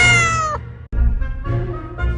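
A cat gives two clear, loud meows, the first drawn out and the second following after a brief pause, heard alone with no talking.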